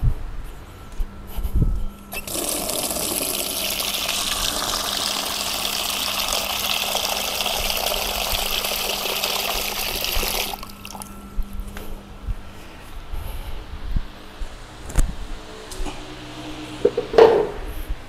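Two liters of water poured into a container for making eggshell-and-carbide fertilizer: a steady rushing splash lasting about eight seconds, with scattered drips and clunks before and after, fairly close and loud.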